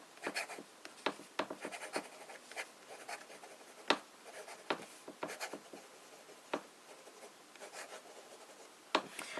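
A fine-nib fountain pen writing on copier paper, a close, quiet run of soft scratchy strokes and taps with short pauses between words.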